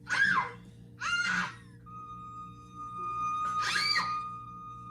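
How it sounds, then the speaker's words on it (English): A woman lets out three high, piercing screams, spaced apart, fairly close, with a faint steady tone between them. "And then you scream as loud as you can."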